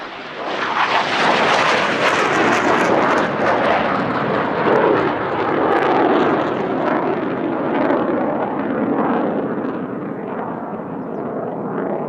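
An F-16 fighter jet roars past at an airshow, a loud, sustained broadband engine rumble and whoosh that holds steady for about twelve seconds, slowly fading toward the end with no voices.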